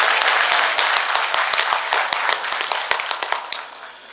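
Devotional gathering at a bhajan satsang in Hatkoti, Shimla, breaks into loud clapping, dense at first, then thinning into scattered distinct claps before fading near the end.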